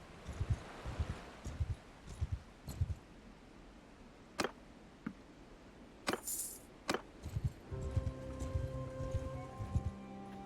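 Horses' hooves clop in Mount & Blade II: Bannerlord, a run of soft, irregular thuds with a few sharp metallic clicks, before a sustained tonal hum rises near the end.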